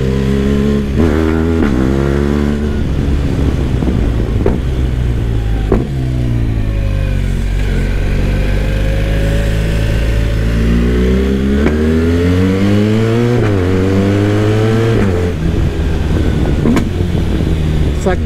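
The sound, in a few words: 1300 motorcycle engine revving while riding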